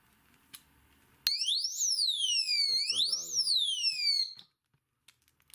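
An ecolle alarm bicycle lock gives a loud, continuous electronic siren-like beeping with rising and falling warbling tones for about three seconds, triggered by someone tampering with the lock; handling noises appear faintly beneath it.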